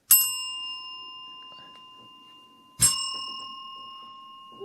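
Two bright metallic bell strikes, the second about three seconds after the first, each ringing out with long sustained tones that slowly fade in an otherwise quiet space.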